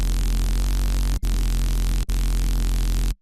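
A loud, harsh, buzzy square-wave synth tone with heavy hard-clipped distortion and compression, held steady and cut off briefly twice.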